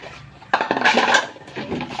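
Dishes being washed, with a sudden clatter of plates and utensils knocking together followed by a run of bright clinks and scraping, close and fairly loud.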